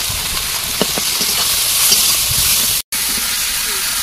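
Vegetables sizzle in a pan with tomato, salt and turmeric, a loud steady hiss of frying with faint clinks and a brief cut-out near the end.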